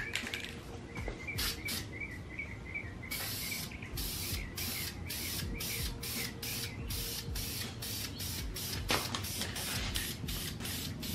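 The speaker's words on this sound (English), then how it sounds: "So let's go ahead and let's start spraying." Gloss black rattle-can spray paint goes onto a car wheel in a garage. Long hissing sprays are broken by short pauses, then a run of quick rhythmic bursts. Faint mechanical and chirpy background sounds sit underneath.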